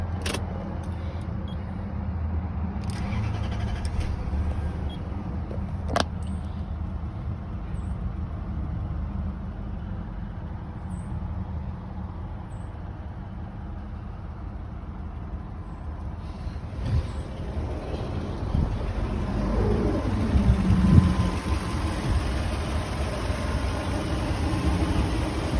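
A 1998 Toyota Celsior Type B with a new battery idles steadily at close range, its low engine rumble holding even for about twenty-five seconds, with a few sharp clicks early on and a slight swell near the end.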